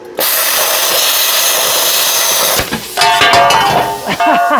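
A plasma cutter cuts metal on the inner frame rail of a 1964–72 GM A-body car: a loud, continuous hissing roar close up that shifts to rougher, sputtering bursts near the end.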